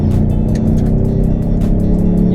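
A Ford Mustang EcoBoost drives and accelerates out of a corner on boost, its engine note a steady, loud drone with turbo whooshes and faint chirps layered over it, close and continuous with no talk.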